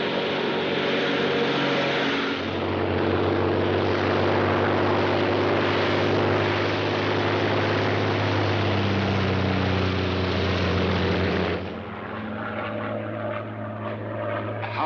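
A Royal Air Force propeller plane drones steadily in flight, a loud continuous engine roar with a deep hum, shifting slightly in pitch and level partway through.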